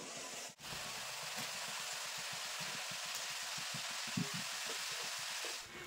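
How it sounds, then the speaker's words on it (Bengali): Nimki dough pieces fry in oil in a kadai. The crackling bubbles form a soft, steady patter like light rain that stays faint and continuous, with no speech. "বাকি যে নিমকিগুলো আছে এগুলো কিন্তু একবারে ভেজে নেব"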